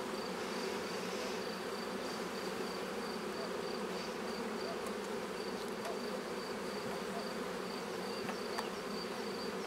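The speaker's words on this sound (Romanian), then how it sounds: "Ia uite pe corpul pe care nu am stropit, încă sunt albine pe partea inferioară." Honey bees on a hive frame being sprayed against varroa make a dense, steady buzzing drone that holds level throughout, close and unbroken, with no voices.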